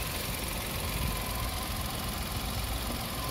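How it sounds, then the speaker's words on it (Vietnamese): A 2015–2016 Hyundai i10 engine idles smoothly and steadily, a continuous low hum with faint vibration and no talk over it. "Máy nổ rất êm luôn đúng không ạ?"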